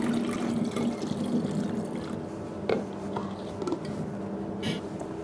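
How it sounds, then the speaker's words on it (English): Dissolved mineral salt solution for coffee brew water trickles steadily into a labeled bottle for about five seconds. The pour is soft and continuous over a low room hum. "I'm going to pour them into a labeled bottle and keep it in the fridge until I need to use it"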